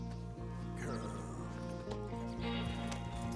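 Horse hooves clip-clopping in the video game Red Dead Redemption, a Braithwaite Turkoman moving at a walk with irregular soft footfalls under game music and someone talking over it.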